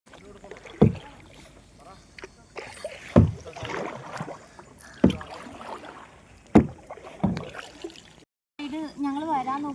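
A kayak is paddled on a lake, with regular splashing paddle strokes roughly every one to two seconds, close by, and voices talking between the strokes.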